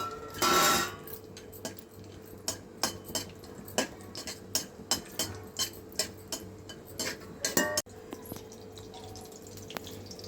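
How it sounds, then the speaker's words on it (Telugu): Cashews roast in a little ghee in a pan, with a series of sharp, distinct scrapes and clinks of a spoon stirring at a steady pace over a quiet background. "కొద్దిగా నెయ్యి వేసుకొని ఈ ముంతమామిడి పప్పును వేయించుకోవాలి."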